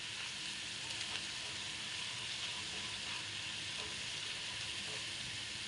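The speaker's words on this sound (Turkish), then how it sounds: "Şöyle biraz kavurmaya çalışıyorum unu." Flour toasts in a pan while making Alfredo sauce, giving a steady, faint sizzle that runs evenly throughout with no talking.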